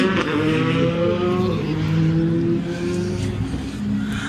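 A Skoda Fabia WRC rally car on a rally stage in Wallonie, its engine loudly revving and droning with shifting pitch as it drives past at speed, with no clear talk over it.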